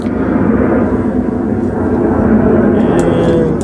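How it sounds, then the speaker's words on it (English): A jet aircraft roars overhead, a loud continuous rumble filling the whole stretch with steady low-end noise. "Sorry about the jet noise."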